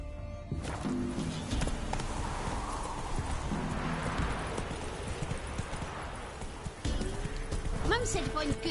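Roach, the horse in The Witcher 3, trots with steady rhythmic hoof clip-clops across the whole stretch, and a neigh rises near the end, while voices talk over it.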